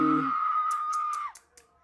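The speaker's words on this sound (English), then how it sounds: "Damn, screaming her lungs out." A fan at a World Tour 2025 concert in LA lets out a long, sustained high-pitched scream, loud and close, that trails off after about a second amid sparse background noise.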